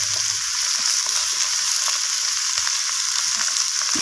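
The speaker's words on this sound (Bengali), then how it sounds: "তো সমস্ত সবজি এইভাবে নাড়াচাড়া করে আমি একবার ভাজা ভাজা করে নিচ্ছি।" Cauliflower stems and flat beans fry in hot oil while being stirred, a dense continuous sizzle close by with faint scraping of the spoon throughout.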